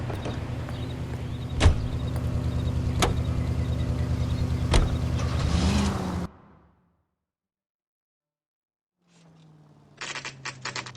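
Car driving in the video game L.A. Noire: a steady engine hum with a few sharp clicks fills the first six seconds, cuts to near silence, then a low rumble and rapid rattling ticks return near the end.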